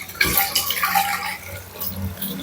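Small fish being swished and rinsed with turmeric in a clay pot, a close, splashy sloshing of water with a sharp slosh near the start and softer swirling after.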